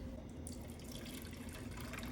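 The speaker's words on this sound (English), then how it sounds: "Now we have to somehow safely drain the grease and the juice into this." Grease and juice from cooked ribs being drained into a container, heard as a steady, faint, continuous liquid flow with no speech.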